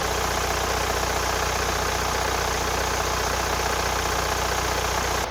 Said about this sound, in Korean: 엔진 소리 바로 들어보도록 할게요